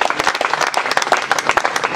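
Audience at an award and patron inauguration ceremony claps for a governor, brisk, uneven hand claps in quick succession, close and lively, with little talk.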